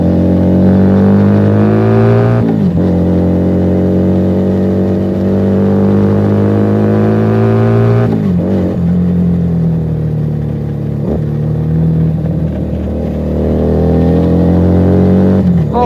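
Keeway SCR 250V motorcycle fitted with a Mavionic aftermarket exhaust rumbles loudly and steadily, its engine note rising and falling through several throttle changes and gear shifts as it passes close by, with no talking.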